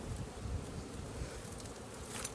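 Honey bees swarming a smoked hive's top box, a dense, steady buzzing hum that stays close and continuous throughout with no voices.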